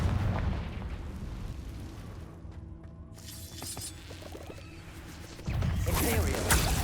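A Confringo blasting spell in Hogwarts Legacy goes off as a loud burst with crackling debris, fading into a rumbling tail, then a second heavy blast erupts near the end amid game ambience.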